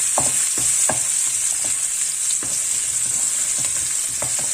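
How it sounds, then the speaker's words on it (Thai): Garlic stir-fries in hot oil in a pan, a bright constant sizzle with quick irregular scrapes and taps of the spatula close by. "ใส่กระเทียมลงไปผัดให้หอม"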